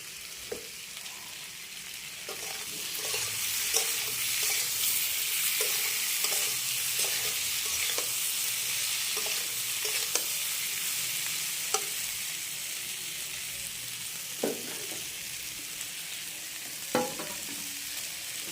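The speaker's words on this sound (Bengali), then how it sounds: "যে ভাজা হয়ে গেছে" Hilsa fish frying in a pan of hot oil, a constant close sizzle broken by periodic scrapes and taps of a spatula as the pieces are turned and stirred.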